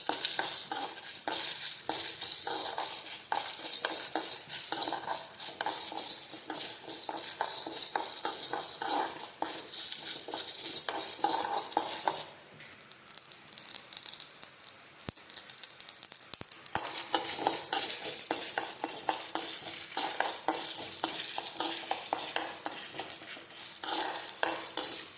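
Chutney ingredients for a tomato and curry leaf chutney roast in oil in a pan, making a dense continuous sizzle with frequent scraping and clinking of a stirring spoon, close up, with a brief quieter dip midway and no talking.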